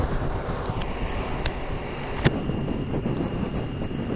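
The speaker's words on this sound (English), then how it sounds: "that wind's heavy, isn't it?" Heavy wind buffets a motorcycle rider's full-face helmet, a loud, steady rushing roar mixed with engine rumble throughout, with one brief sharp knock and no talking.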